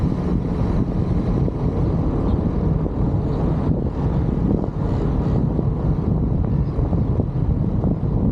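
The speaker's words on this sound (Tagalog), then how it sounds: "Medyo maingay yung ihip ng hangin." Loud wind buffets the microphone of an Insta360 X3 camera outdoors as rain arrives, a steady, dense roaring rumble with slight gusty swells throughout, no voices.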